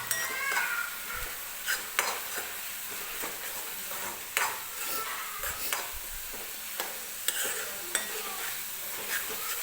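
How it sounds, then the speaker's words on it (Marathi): Green masala paste roasting in oil with onion and tomato for a spicy chicken sukka and rassa, with soft sizzling under repeated spatula stirs and scrapes against the pan, steady and close. "तर सगळा मसाला व्यवस्थित भाजून घ्यायचा आहे"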